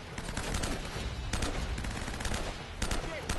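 M4 rifle fire in the Uncharted game, dense rapid bursts of gunfire with short pauses between them, loud and continuous over the whole stretch.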